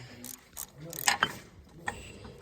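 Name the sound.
removing a disk brake caliper bolt with a ratchet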